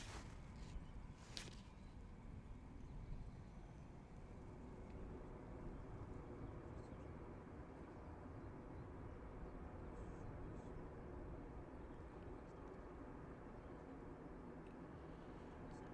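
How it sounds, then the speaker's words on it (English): A Ryanair airliner touching down at Manchester Airport gives a faint, steady, distant roar that rumbles on without a break. "There's a Ryanair just touching down in the background."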